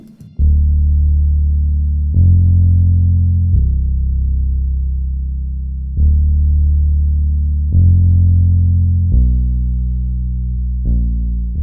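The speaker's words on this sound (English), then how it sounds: "So I wrote a bass line that sounds like this." A deep, sustained bass line of long held notes changing every second or two, loud and alone with no drums or voices.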